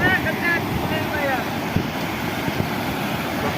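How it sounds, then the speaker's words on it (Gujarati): Steady broadband rush of flowing water, loud and close, with occasional faint voices and wind buffeting on the microphone. "હબ્બાઓ જોરદાર પાણી જાય છે"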